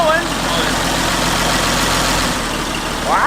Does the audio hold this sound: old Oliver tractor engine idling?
yes